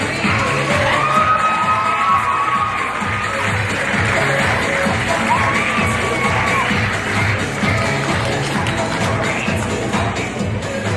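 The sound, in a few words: audience applause and cheering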